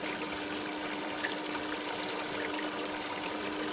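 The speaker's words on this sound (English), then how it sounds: "This water is very, very hot that I am dipping out of this in here." Very hot water being dipped out of a container and poured while building a bait tank, a steady close splashing trickle that runs unbroken throughout with no talking.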